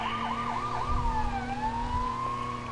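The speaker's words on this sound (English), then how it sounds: "Sirens. You know, like every emergency vehicle has sirens." An emergency vehicle siren in the Lego City Undercover video game wails, starting with a quick yelping warble and then shifting into a slower rising and falling tone, steady and clear with low engine rumble beneath.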